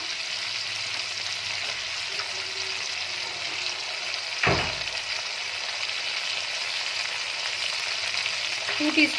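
Ginger paste frying with softened tomatoes for a vegetarian potato and pea curry, producing a continuous close sizzle with a single sharp knock of a spoon against the pan partway through and no speech.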